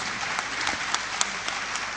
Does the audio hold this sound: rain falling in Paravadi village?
no